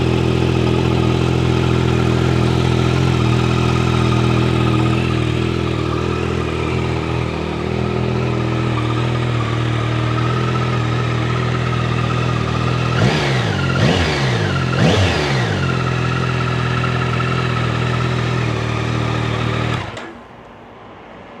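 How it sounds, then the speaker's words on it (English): A 2025 Yamaha R9's CP3 three-cylinder engine idles steadily and loudly up close, then gets two sharp throttle blips that rise and fall, before the engine shuts off near the end. "Check out the exhaust note."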